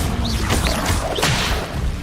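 Spell-combat effects in Hogwarts Legacy on PS5: a series of sharp whooshes, cracks and thudding impacts from a Bombarda blasting spell, loud and close, spread over two seconds without talk.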